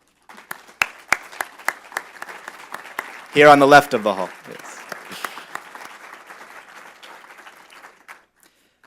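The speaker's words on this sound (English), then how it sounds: "join me in giving him a round of applause" A hall audience at an interfaith event claps with sparse, scattered hand claps that thin out and fade, while a person talks over them.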